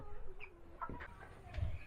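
Hens give a few soft, quiet clucks and brief squawks on a poultry farm, the sounds close and intermittent over a low background hum.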